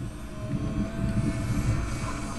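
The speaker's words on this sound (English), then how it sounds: "it's very maneuverable and just a fun, fun plane to fly." A Sea Monkey RC model airplane on its maiden flight drones overhead with a steady, continuous engine buzz at moderate distance, alone without voices.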